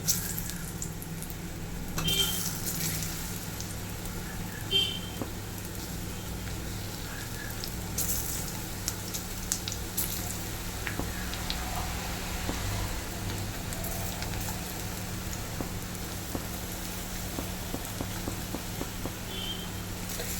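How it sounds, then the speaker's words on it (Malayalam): Slices of peeled ripe plantain (ethapazham) frying in hot ghee give a steady close-up sizzle with scattered crackles and small pops, held level throughout over a faint low hum, with no talking. "ഈ ചൂടായി നെയ്ക്കകത്തോട്ട് നമ്മൾ എടുത്തു വെച്ചേക്കുന്ന ഏത്തപ്പഴം തൊലി കളഞ്ഞതുപോലെ ഒന്ന് അരിഞ്ഞിട്ട് കൊടുക്കാം"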